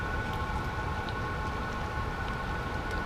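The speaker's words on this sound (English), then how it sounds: "The rain is letting up." Rain falls outdoors at Lock and Dam number 5 during a fishing trip, a dense, even patter over steady low rumble, continuous and unbroken with no voices.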